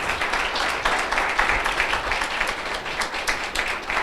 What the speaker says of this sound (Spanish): Denle un fuerte aplauso al Señor en esta hora.